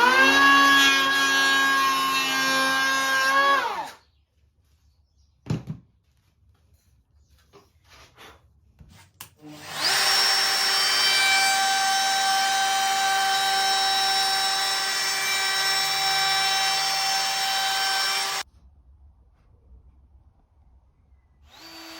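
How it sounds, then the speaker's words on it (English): Power saw mitring plywood corners for a large custom podium, two loud sustained whining cuts with a sharp tonal hum, separated by a short pause and a brief knock. "Now I'm getting set up to mitre all the corners"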